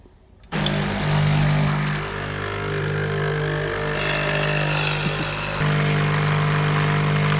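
A Delonghi Magnifica ESAM0411X coffee machine running a descaling rinse cycle starts abruptly into a steady mechanical pump hum and whir, holding constant with a brief dip and resurging louder near the end.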